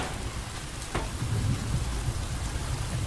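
Steady rain in the video game Stranded Deep pours down in a continuous hiss, with a low rumble underneath and no voices.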